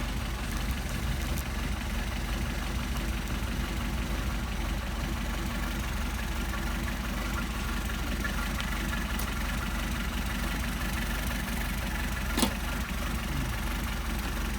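A Mercedes-Benz 190SL engine with Solex carburetors idles steadily for the whole stretch, a continuous low hum close by with no talking and only a faint click near the end.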